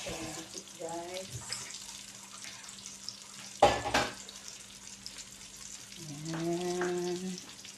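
Tortang talong, eggplant omelette, fries in oil with a steady soft sizzle under the whole stretch, broken by a loud clatter partway through, while a voice speaks at intervals over the cooking.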